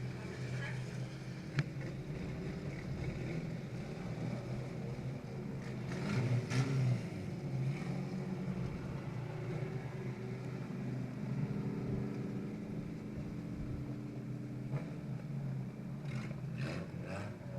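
Race car engines circle a speedway on an honor lap, a steady, fairly distant drone that swells and fades slightly, with a broad outdoor murmur throughout.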